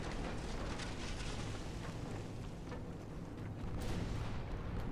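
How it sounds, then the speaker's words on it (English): Torpedo hit exploding on a warship in the naval game Ultimate Admiral: Dreadnoughts, a broad rumbling blast wash that stays heavy and sustained with low booming texture, fairly faint overall. "There's a huge torpedo hit."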